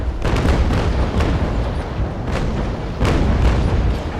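Ship cannons firing in the naval battle game Naval Action, a run of heavy booms at irregular intervals, some close and loud, others more distant, layered into a continuous rumbling barrage with no talking.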